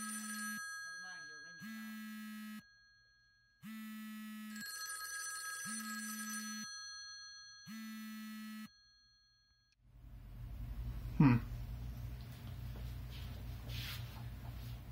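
An indoor telephone ringing for an incoming call, about five evenly spaced electronic ring bursts with short gaps between them, followed by quiet room noise and a brief handling sound.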